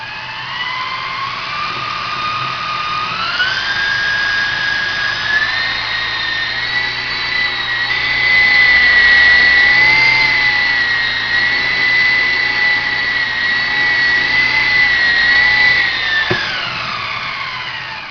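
A small electric RC helicopter motor whines steadily as rotor blades fitted with reinforced aluminium tape spin up, holding a high buzzing pitch before winding down near the end.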